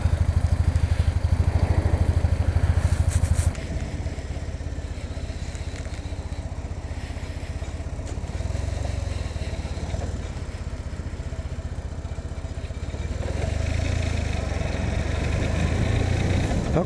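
A BMW R1200C motorcycle engine rumbles low and steady while riding, with heavy wind buffeting at first that then eases into a continuous, close engine drone.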